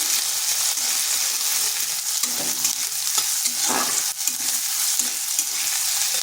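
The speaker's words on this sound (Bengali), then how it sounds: "পেঁয়াজটা হালকা একটু ভেজে নেব।" Chopped onion fries in a pan with cumin, a loud steady sizzle close by, broken by a few scraping stirs, with no voices.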